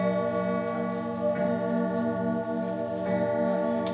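A grandfather clock with weights and an etched pendulum ticks steadily in a home, a rich resonant ring sustaining beneath faint regular ticks, close and alone with no voices.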